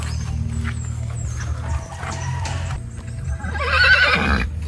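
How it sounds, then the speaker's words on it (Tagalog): A horse whinnies loudly near the end, rising and falling, over a steady low background hum and faint rustling. "May kabayo"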